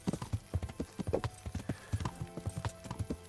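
Horse hooves clip-clopping in a steady, rhythmic gait while riding in Kingdom Come Deliverance, close and distinct, with an occasional faint whinny.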